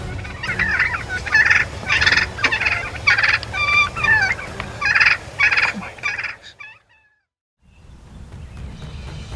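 Wild turkeys out in the open call in a run of gobbling bursts over about six seconds, clustered and fairly close, then fall silent before faint background noise returns.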